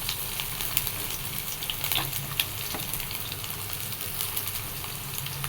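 Shallots, garlic and ginger frying in a pan for a sardine curry make a dense, steady sizzle with scattered pops and crackles, close and fairly loud, with no voices over it.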